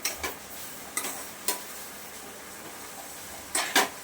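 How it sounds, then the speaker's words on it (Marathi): Coconut and sugar stirred in a pan over medium heat, a spoon scraping in a few distinct strokes with light background sizzle, close and fairly quiet, no talking. "ह्याला चांगलं साखर वितळेपर्यंत मिडियम गॅसवरती परतत राहायचं आपल्याला"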